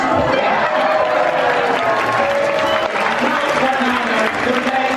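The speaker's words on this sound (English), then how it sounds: "For the grand finish, fling open the fabric and receive your well-deserved applause." Audience applause and cheering on a cruise ship stage show after a magic trick finale, a dense steady wash of clapping with crowd voices mixed in, loud and continuous throughout.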